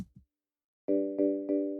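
A few soft bell-like mallet tones from a Tritone software instrument ring out in quick succession after a brief thump, each note sustaining and fading.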